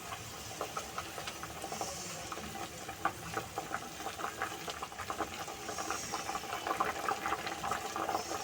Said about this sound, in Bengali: ঝোলটা ফুটে উঠুক ততক্ষণ।